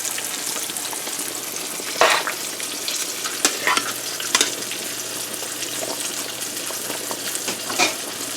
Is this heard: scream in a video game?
no